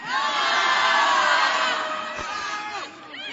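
A large rally crowd at the State Capitol in Sacramento roars with cheering and shouting, loud and sustained at first, then easing slightly before swelling again.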